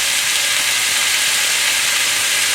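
Beef stir fry with ginger, garlic and Shaoxing wine sizzling loudly in a hot pan, a steady bright hiss that runs unbroken from start to finish with no talking.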